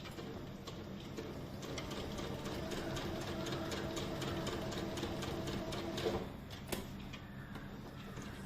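A sewing machine stitches quilted fabric along marked lines, its needle chattering in a fast, steady mechanical rhythm that runs continuously with a brief pause near the end.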